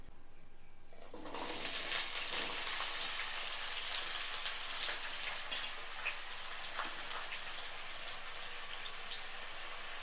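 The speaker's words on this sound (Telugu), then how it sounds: "ఆయిల్ వేడెక్కాక ఇప్పుడు ముందుగా కట్ చేసి పెట్టుకున్నాం కదండి వంకాయ ముక్కలు, ఇవన్నీ ఇలాగ నూనెలో వేసేస్తున్నాను" Eggplant (brinjal) pieces drop into hot oil, and a dense, hissing sizzle starts abruptly after a second of near quiet, then continues steadily with scattered crackles and pops.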